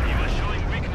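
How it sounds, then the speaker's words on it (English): Sector artillery barrage in the video game Company of Heroes 2, a dense, loud, continuous rumble of blasts filling the whole second, with a commentator talking over it. "This guy's sector artillery is doing more harm than good, keeping him back."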